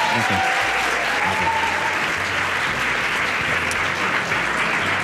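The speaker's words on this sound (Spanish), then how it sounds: "podéis hacerle un aplauso, un aplauso al profe" Secondary school students give their teacher sustained, dense applause in a classroom during a Radio 3 school visit. The clapping stays loud and even throughout, with a faint voice at the start.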